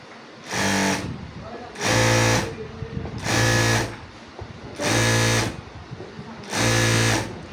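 A Jack JK-9100B industrial sewing machine runs in four loud, steady bursts of about a second each, separated by short pauses, with a low motor hum and rapid needle clatter, and quieter background noise between the runs.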